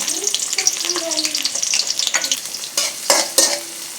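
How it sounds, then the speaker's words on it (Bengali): Onions frying in two spoons of oil for a sweet pumpkin bhaji, a bright continuous sizzle with stirring scrapes that sharpen near the end. "দুই চামচ তেলের মধ্যে পেঁয়াজ দিয়ে দিব"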